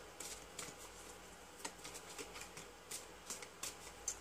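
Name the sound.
shuffling tarot cards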